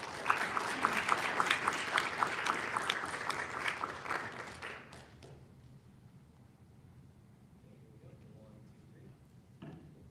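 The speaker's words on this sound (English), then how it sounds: "Let's give her another round of applause." Audience applause at a city council meeting in Norwalk, strong and dense for about five seconds, then fading out into quiet room noise with faint voices.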